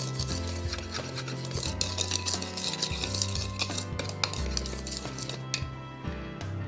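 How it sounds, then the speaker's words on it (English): A whisk beats dry baking cocoa, sugar, salt and baking powder together in a bowl with rapid rhythmic clinking and scraping strokes. It is close and steady, with no talking. "I'm going to whisk that all together."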